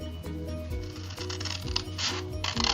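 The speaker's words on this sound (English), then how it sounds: "We're going to cut up to the score line," Scissors snip through card stock toward a score line while making a pop-up card, producing a series of close, crisp cutting crunches over a steady background hum.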